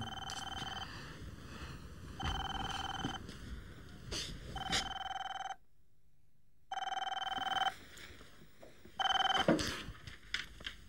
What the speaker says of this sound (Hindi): फोन की घंटी बज रही है, जाके फोन सुनो।